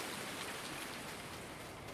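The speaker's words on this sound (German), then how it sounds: "Oh, der Regen hört jetzt schon auf." Steady rain falls in Farming Simulator 19, a faint, even hiss of drops on surfaces that runs unbroken through the short stretch, with no talk.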